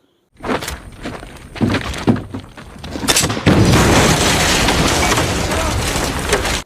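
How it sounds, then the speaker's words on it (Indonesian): A bomb trap detonates with sharp booming impacts followed by a loud, continuous roaring blast that fills the rest of the moment, close and heavy, with no voices. "sebuah jebakan bom aktif yang membuat Mayor Justin harus gugur."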